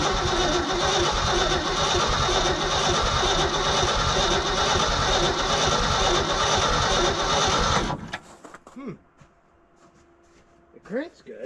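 A bumpside Ford truck engine cranks hard on a cold start, a loud sustained churning that runs for about eight seconds before cutting off, leaving quiet with a few short voices.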